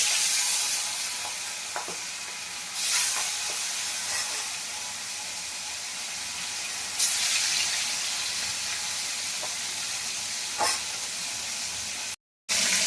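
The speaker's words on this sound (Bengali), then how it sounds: "তেল গরম হয়ে গেছে, আমি মাছের মধ্যে, তেলের মধ্যে মাছটা ছেড়ে দিই। ফটাফট ফটাফট।" Silver carp pieces frying in hot oil, a continuous loud sizzling hiss with a few sharper pops and spits rising above the steady crackle.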